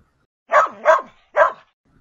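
Dog barking in a Spanish children's story: three short close barks, the first two quick together, then a brief pause before the third.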